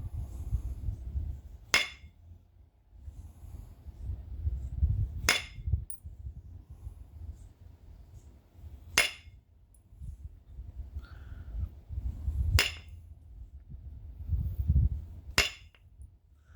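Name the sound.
flint knapping, striking flint to shape a knife blade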